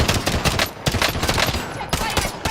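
Dense, loud automatic gunfire in a shooter video game, rapid overlapping bursts of shots that fill the whole stretch with barely a pause.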